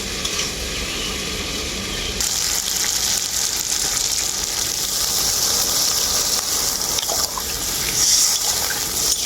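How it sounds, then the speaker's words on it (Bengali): Water poured into a pan of spiced watermelon rind curry gives a steady hissing, sizzling gush that brightens partway through and runs on without pause, with no voices. "এখন এর মধ্যে দিয়ে দেব পরিমাণ মতো জল"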